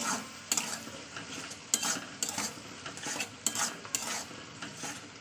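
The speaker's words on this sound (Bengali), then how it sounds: "তো এটাকে আমি আবার কষিয়ে নেবো যাতে হলুদের গন্ধটা না থাকে" Fish curry masala with salt and turmeric being sautéed in oil, a soft steady sizzle broken by repeated sharp scrapes and clinks of a spatula stirring against the pan.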